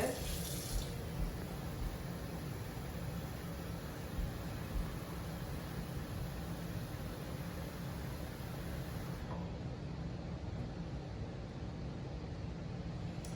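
Warm water running from a sink tap into an enema bag, a steady, even hiss of flowing water lasting throughout, quiet and continuous.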